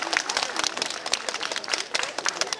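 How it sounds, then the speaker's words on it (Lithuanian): An audience claps for performing dogs at an outdoor show, scattered quick hand claps at moderate distance under faint crowd murmur. "Jiem galite paploti, šiaip jie supranta, ką reiškia aplodismentai."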